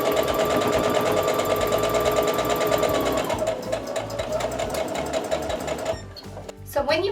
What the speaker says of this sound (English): Then we'll take it to the sewing machine.